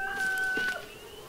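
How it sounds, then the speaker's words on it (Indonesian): A chicken in the Dreadout video game, set in an empty town, gives a short clucking call with a brief rooster-like note, heard close and alone over a faint background hum. "Kota sepi gini ada ayam loh."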